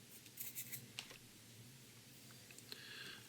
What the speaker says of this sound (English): with our scissors just nick an end of it and peel the rest off.